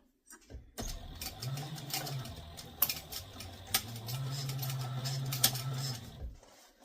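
A sewing machine stitches along the seam line of a Zoe Satchel bag, running in two steady bursts with a brief pause between them and a few sharp clicks, close and moderately loud with no talking.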